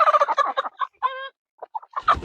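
Chickens on a farm at dusk squawk and cluck loudly and nearby in rapid bursts, with brief gaps and a rising flurry at the end.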